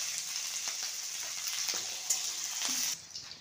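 Onion frying in a pan with garlic and chili, a bright steady sizzle close by with occasional stirring scrapes, fading sharply near the end.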